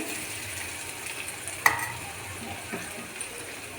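Onions sizzle steadily in oil up close, with a sharp utensil knock partway through and a few softer stirring clinks.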